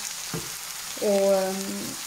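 Chinese vermicelli is briefly sautéed with chermoula in a pan. A short soft sizzle is followed by a clear tonal squeak or clink about a second in, all heard close with no talking.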